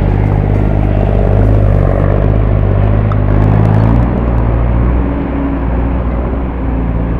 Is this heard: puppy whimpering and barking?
no